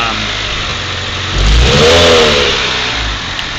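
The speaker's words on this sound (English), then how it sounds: "then it sputters and it's really bad, and trying to give it gas, it just takes a lot" A 1992 Eagle Talon engine revs up unevenly and then settles back, with a rough, labored rise in the middle of the clip. The sound is close and loud, with no talking.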